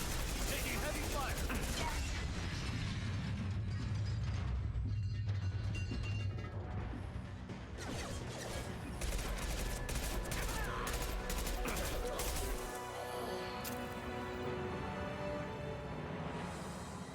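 Heavy gunfire fills a Mass Effect 2 firefight, dense and continuous, with mechanical clatter and low rumbling in the mix while a voice speaks intermittently.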